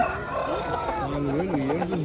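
A large rooster crows nearby at a Sunday poultry market in Piler, its drawn-out call rising and falling over about two seconds, with other voices faintly audible around it.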